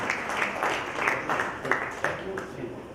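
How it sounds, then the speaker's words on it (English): Applause from a seated audience at the valedictory session of a South Asian cities summit, a broad patter of many hands with a few louder claps standing out, fairly close and continuous, with some voices mixed in. "Round of applause for Gangtok Municipal Corporation and the European Union."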